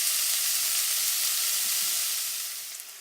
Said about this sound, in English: Bacon's crisping up a little bit.